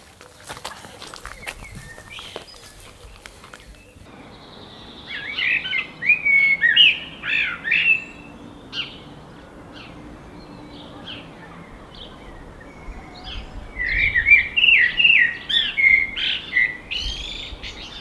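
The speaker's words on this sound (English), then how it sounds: "There are so many blackbirds here at the moment and they are singing so beautifully." A blackbird sings two short bursts of fluty, warbling phrases a few seconds apart, fairly close, with quiet gaps between.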